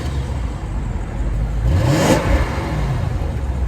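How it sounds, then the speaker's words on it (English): A 2018 BMW 750i in San Marino Blue with its exhaust revving once, a short rising engine swell that peaks and falls back to a steady idle hum, heard close by. "Now here's what the exhaust sounds like."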